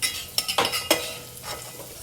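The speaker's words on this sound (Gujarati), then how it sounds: "ત્યારબાદ ડુંગળીને સોનેરી રંગની થવા દઈશું। મધ્યમ આંચ ઉપર ગેસની ફ્લેમ ધીમી કરી દઈશું।" Onions frying in a pan over a medium flame, with a low sizzle under a few quick stirring scrapes and spoon knocks near the start, then a gentler stir fading out.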